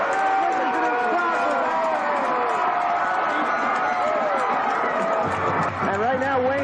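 A packed stands crowd at a 1991 high school football state championship roars steadily and loudly throughout, a dense continuous cheer with a commentator's voice running over it.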